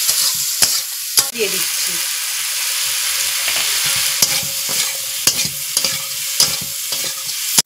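Parboiled potatoes tipped into tomatoes frying in a pan and stirred, giving a steady close sizzle broken by spoon scrapes and knocks against the pan, with a brief spoken word over it.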